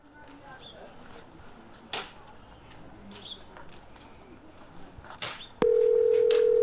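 A phone suddenly sounds a loud, steady electronic tone near the end. Before it, a quiet room is broken only by faint bird calls and small noises.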